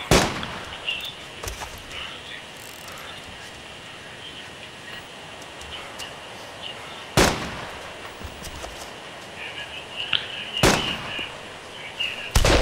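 Sharp gunshots in the DayZ mod for Arma 2, a few isolated loud cracks spread unevenly over a quiet ambient background, no talk.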